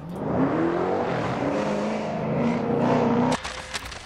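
Drag race cars with shredding tires in The Grand Tour Game, a loud, sustained engine roar with harsh broadband tire noise that cuts off sharply near the end, followed by a few brief clatters.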